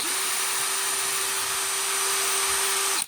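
A power drill with a screwdriver bit drives a screw into the Funtek STX RC car chassis, giving one steady, close, high-pitched whine for about three seconds before it stops.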